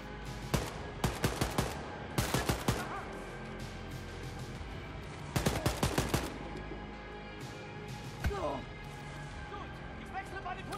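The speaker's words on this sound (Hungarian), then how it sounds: "Valahol oldalról kaptuk ezt az ütést, vagy lövést." Gunfire strikes the player in the Wolfenstein: Youngblood video game, heard as several sharp, loud bursts of rapid shots spaced apart, with quieter clatter and impacts between them.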